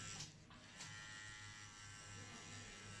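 A rotary tattoo machine hums with a steady, even electric buzz close by, holding a constant tone throughout after a couple of faint clicks at the start.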